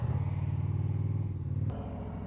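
A motorcycle sits idling in first gear, its low engine putter loud and steady at close range, with a brief clatter and a drop in level near the end.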